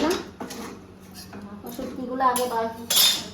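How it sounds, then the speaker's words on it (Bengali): A metal wok being set on a home kitchen stove: a few sharp clanks and clinks of metal, separated by short pauses, with a voice talking in between. "কড়াইটা বসাইলাম,"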